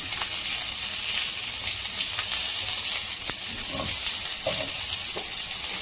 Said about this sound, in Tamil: நல்லா இதை இப்படி சாட்டேஜ் பண்ணிக்கணும். ஹை ஃப்ளேம் பண்ணிட்டு